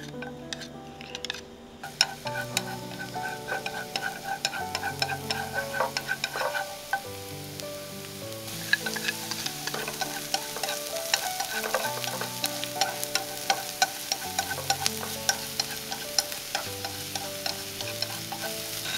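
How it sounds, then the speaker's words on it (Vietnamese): Minced garlic and scallion whites sizzle and crackle in hot oil, with quick popping bursts and occasional stirring scrapes, close and steady with no talking. "Dầu nóng thì mình cho tỏi băm và đầu hành lá vào phi cho dậy mùi thơm."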